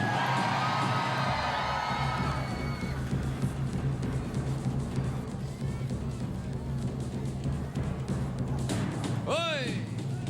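A studio audience at a Filipino noontime variety show cheers and shouts together, a dense roaring crowd throughout with whoops and a sharp whistle-like cry near the end.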